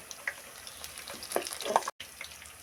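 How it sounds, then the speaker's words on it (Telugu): Jalebi spirals frying in hot oil, turned over and over until crisp, give a soft steady sizzle with small crackling pops and a brief sharp gap, nearby and moderately quiet with no talking. "అలా మార్చి మార్చి మనం వేపుకోవాలి"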